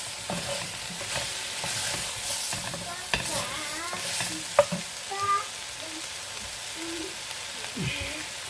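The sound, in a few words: food being turned over while frying in a pan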